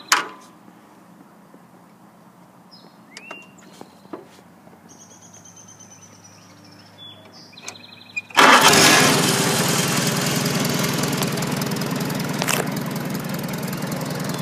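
A 1953 Farmall Super A tractor engine cranks and catches after a quiet stretch, then runs loud and steady at a close, even idle.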